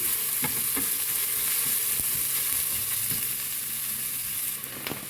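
Borscht vegetables fry in a pressure cooker with a steady, close sizzle, broken by occasional scraping taps as a utensil stirs the pan.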